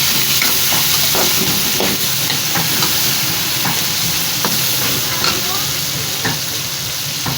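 Meat sizzles and fries with softened tomatoes in a pot for chicken pulao, with a steady loud hiss running throughout and intermittent scraping stirs.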